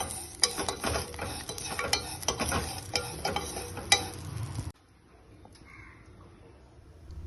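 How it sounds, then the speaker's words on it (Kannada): Vermicelli fries in ghee in a pan, with a busy crackling sizzle and repeated stirring scrapes close up for several seconds before the sound cuts away to near quiet. "ಸ್ವಲ್ಪ ತುಪ್ಪ ಹಾಕಿ ಶಾವ್ಗಿನ ಬ್ರೌನ್ ಆಗೋವರೆಗೂ ಸ್ವಲ್ಪ ಫ್ರೈ ಮಾಡ್ಕೊಂಡು"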